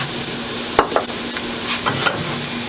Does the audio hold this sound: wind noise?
no